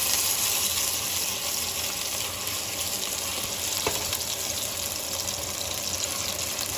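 Meatballs searing in a frying pan, giving a steady, dense sizzle that holds at an even level throughout with no talking.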